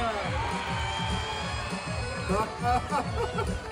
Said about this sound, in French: Encore plus d'applaudissements pour Claire d'Auvergne.